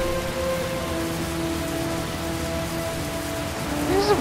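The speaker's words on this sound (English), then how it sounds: "Why does it rain so much?" Steady, dense rainfall from the video game Heavy Rain patters continuously in a city setting, a uniform hiss with faint low rumble and a brief tonal sound near the end.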